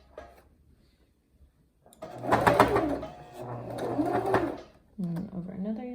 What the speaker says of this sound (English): Right now I'm over an elastic, and so I'm gonna make sure that I stitch over that a couple times,